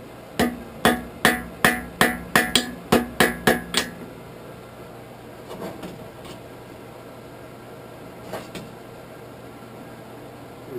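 About a dozen sharp, ringing hammer blows strike hot metal on an anvil in quick even rhythm to forge-weld a twisted poker handle, followed by quieter scattered clinks and a lone tap.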